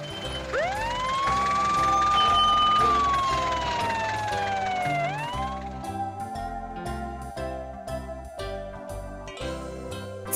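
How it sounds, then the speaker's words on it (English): A police van siren wails in a rising and falling sweep for about five seconds, loud and close, then gives way to bright tinkling jingle music. "Police van."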